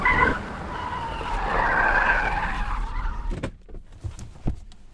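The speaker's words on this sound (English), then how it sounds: "Victor, pull the car over" A car skids and its tires squeal as it pulls over in a film scene, a long loud screech that fades out, followed by a few clunks and quieter thuds.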